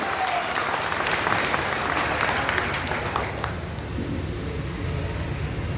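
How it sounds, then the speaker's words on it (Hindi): Loud, sustained applause from an audience at an RCM business meeting fills the room, thick and continuous, with a few sharp claps standing out before the clapping slowly fades into background hum. "एक बार जोरदार तालियां बजा दें कि वो बंद नहीं करे आगे"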